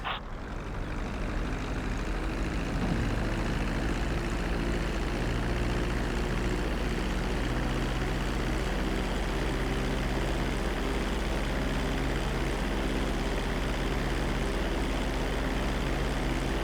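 In Grand Theft Auto V, an airplane's engines drone loudly and constantly as it comes in to land, a dense, unbroken roar with a low steady hum beneath it and no talking.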